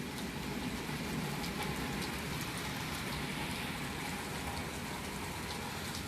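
Steady rain on a stormy day, an even hiss of countless drops with scattered brighter taps, continuous throughout and fairly soft, no one speaking.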